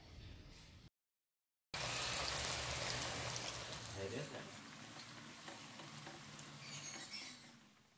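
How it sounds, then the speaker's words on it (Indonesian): Mung bean vegan dendeng frying over low heat in oil, a steady, dense sizzle and crackle that cuts out briefly, then returns loud and continuous, easing slightly toward the end. "Goreng dengan api kecil"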